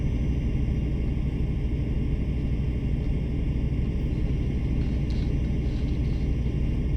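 A truck engine in Euro Truck Simulator 2 drones steadily, a constant low rumble with a hissing wash of road noise, unchanging and close throughout with no talk.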